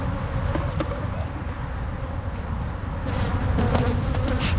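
Honeybees hum in a dense, continuous drone from an opened bottom hive box, the buzzing steady and close with a slight swell toward the end; no talking.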